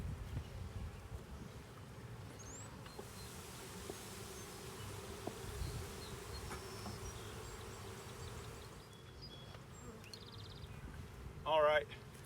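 Honeybees buzz around an open hive during an inspection with a smoker: a faint, continuous insect hum under soft background sounds and quiet voices.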